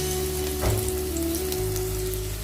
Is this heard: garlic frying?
yes